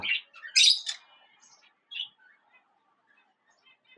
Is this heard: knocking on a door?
no